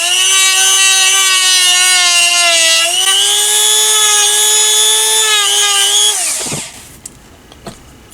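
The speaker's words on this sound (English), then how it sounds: "you can actually feel this Dremel going through." A Dremel rotary tool carves into a custom TMNT figure with a loud, steady high-pitched whine that dips slightly in pitch under load, then spins down and stops, leaving faint handling noises.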